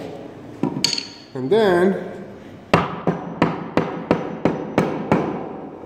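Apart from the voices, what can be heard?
tapping wedge into windsor chair leg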